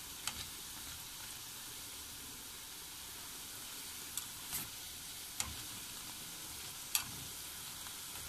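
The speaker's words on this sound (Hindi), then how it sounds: "अब हम इसे अच्छी तरह गोल्डन ब्राउन कर लेंगे, ज्यादा ब्लैक नहीं करेंगे, थोड़े थोड़े ब्राउन करेंगे।" Moong dal pakoras fry in hot oil with a quiet, steady sizzle, broken by occasional faint ticks and clinks.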